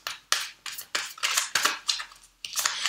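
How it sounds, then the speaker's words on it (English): Tarot cards being shuffled by hand, a quick series of about ten crisp riffling bursts with short gaps between them, close and clear, no voices. "I'm actually only shuffling these cards for comfort."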